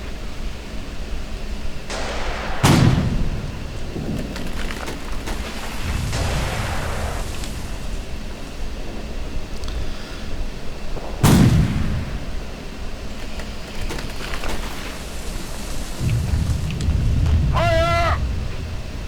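Artillery fire in the World War II strategy game Sudden Strike 3, with a few sharp distant booms spaced seconds apart over a rumbling battlefield background and a short warbling effect near the end.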